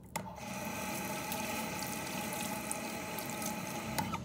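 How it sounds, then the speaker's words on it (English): Running tap water streams steadily over a coin being rinsed after a shampoo soak, a continuous close splashing wash with faint clinks, no speech. "and put it under water."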